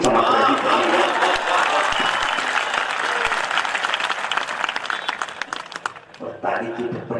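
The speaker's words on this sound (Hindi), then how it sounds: "ये गलत जगह ताली बजाई आपने।" Audience applause at a Hindi poetry recital (kavi sammelan), dense sustained clapping from a large crowd that fills the clip and tapers off near the end, followed by a brief voice.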